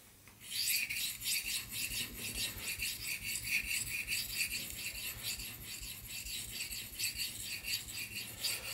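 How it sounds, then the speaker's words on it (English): A knife blade is drawn over a sharpening stone held at about thirty degrees, making a continuous rhythmic gritty rasp. The close, steady strokes repeat evenly without pause. "I'm using the stone here at about a 30-degree angle to my body."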